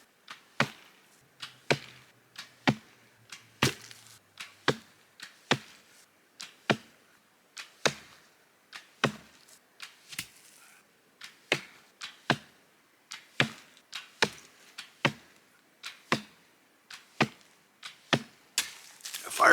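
A handmade wilderness bow is shot over and over, each release a sharp woody snap followed by a brief twang, repeating at roughly one-second intervals, close by and crisp against near silence.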